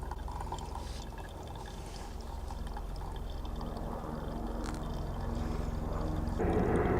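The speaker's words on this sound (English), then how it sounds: "I'm just gonna put the rest of the water in here." Water trickles slowly and steadily over ground coffee during outdoor brewing, close and fairly quiet, growing a little fuller and louder near the end as the pour continues.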